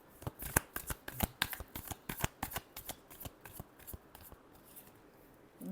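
Tarot cards are shuffled by hand close up, a rapid series of crisp riffling flicks and slaps that thins out and softens toward the end, quiet and alone.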